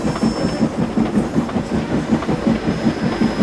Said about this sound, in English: They puffed through Edward's station and made their way towards Gordon's Hill